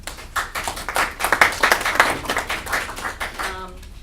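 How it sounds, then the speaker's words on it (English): Applause from a crowd at a school board meeting, steady clapping that swells and then fades out toward the end. "a huge great. round of applause for them"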